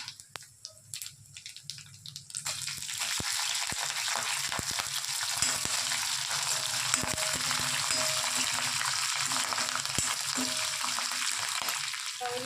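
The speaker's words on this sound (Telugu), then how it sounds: "ఆవాలు, జీలకర్ర ఇగో వేస్తాను" Mustard seeds and cumin crackle and sizzle steadily in hot oil for sabudana upma, a dense frying hiss with scattered sharp pops that starts after a quiet opening and then holds loud and close.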